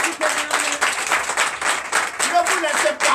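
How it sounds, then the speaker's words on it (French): Church congregation applauding during a Sunday worship service, continuous crowd clapping with voices and cheers blended throughout. "Je vous demande d'applaudir très fort."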